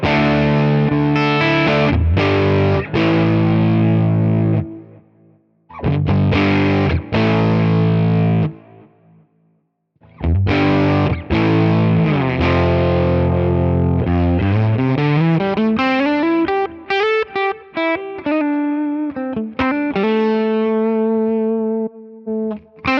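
An electric guitar runs through a '64 Fender Deluxe amp model in normal mode on a Quad Cortex, playing loud, crunchy, slightly distorted chords and bends with short pauses, then a rising single-note run near the end.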